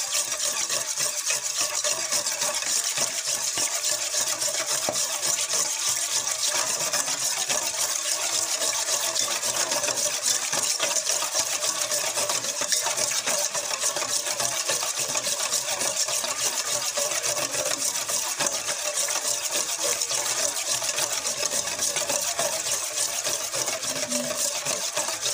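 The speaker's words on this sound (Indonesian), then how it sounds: "Aduk ya sampai betul-betul rata pemirsa ya" A spoon or whisk keeps stirring economical sponge cake batter in a bowl, giving a continuous, even scraping and swishing texture that stays steady and alone for the whole stretch.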